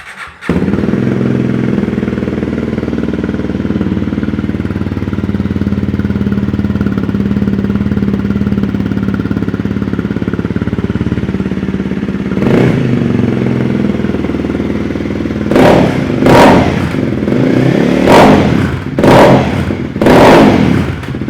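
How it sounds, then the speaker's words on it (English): A Honda CRF300L Rally motorcycle with a slip-on exhaust idles loudly and steadily for a long stretch, then gets blipped in a series of sharp, throaty revs near the end. "if you're curious what a rally sounds like with a slip-on exhaust, this is it"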